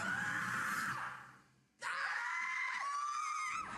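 A voice lets out two long, piercing screams separated by a brief pause, loud and close.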